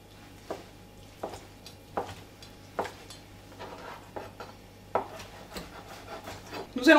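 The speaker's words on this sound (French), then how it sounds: "Pour finir, nous allons hacher notre sétan." Knife chopping seitan on a wooden cutting board for a vegetarian bulgur patty, a dozen irregular sharp chops spaced out over a faint steady hum, with a louder clatter at the end.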